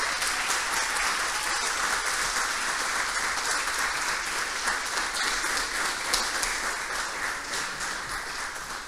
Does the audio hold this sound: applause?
yes